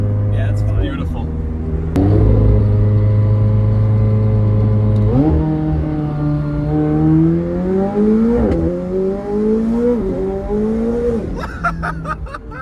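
A 940 WHP McLaren 765LT accelerating hard from inside the cabin, its engine climbing through several gears with pitch rising and dropping at each shift, loud and close, with brief talk near the end.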